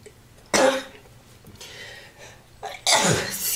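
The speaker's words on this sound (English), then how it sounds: "I can never sneeze just once." Two sharp sneezes burst out close by, one early and a louder one near the end, with a quieter breathy sound between them.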